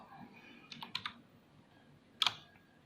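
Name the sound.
typing 'help' on computer keyboard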